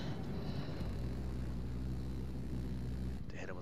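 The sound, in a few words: attack jet flying in video game Battlefield 4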